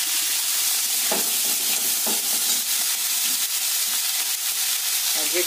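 Broken wheat dalia frying in a pan with salt, sugar and grated ginger, giving a constant bright hiss with a few soft stirring scrapes, close and loud, with no voices.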